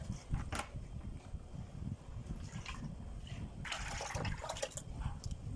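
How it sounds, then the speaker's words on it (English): Wet pap made from popcorn is transferred into a bag, giving faint, close sloshing and trickling with a few soft splashes and drips, heaviest toward the end. "I'm going to be transferring the pap inside this bag"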